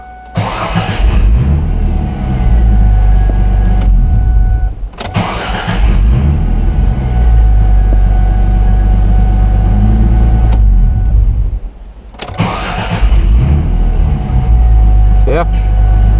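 A 2000 Ford Mustang 3.8L V6 with a newly replaced starter cranks and fires, then settles into a steady, loud idle. The engine is briefly cut and restarted twice, with short cranking bursts between the long running stretches.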